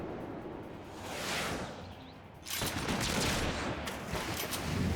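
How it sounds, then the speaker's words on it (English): Gunfire in Final Fantasy XIV as the Admiral fires her double-barrel pistols, a dense, steady rattle of shots that swells midway and keeps going loud to the end, with no talk over it. "She's actually using her guns for once."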